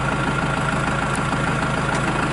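A 2018 Kubota L4701DT tractor's diesel engine idles close by in a steady, even rumble with a faint knocking texture, unchanged throughout and with no voices.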